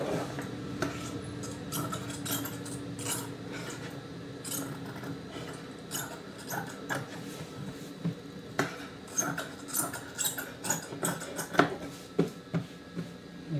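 Scissors cut through blouse fabric and lining, trimming the sides close up. Quiet rustling gives way to a run of rhythmic, crisp snips toward the end.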